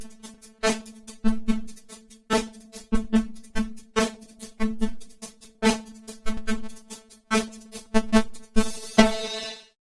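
A Kontakt 6 granular sampler patch with no crossfades plays a rhythmic pulsing sequence of short grains, each onset marked by small pops and clicks, ending in a burst of bright noisy texture.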